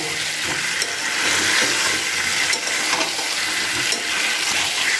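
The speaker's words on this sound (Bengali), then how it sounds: "সেদ্ধ করে রাখা আলুটাকে এর মধ্যে দিয়ে দিচ্ছি এটা দেওয়ার পরে আবার বেশ কিছুক্ষণ এটাকে নাড়াচাড়া করে নেবো" Boiled potatoes stirred into spices in a pan for a Bangladeshi-style alur dom give a steady, close hiss of sizzling with soft scraping stirs throughout.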